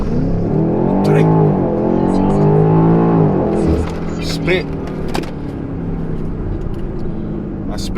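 A BMW X5M accelerates hard through a 0-60 run with traction control off, its engine note rising loudly for about four seconds before easing into a steadier cabin drone.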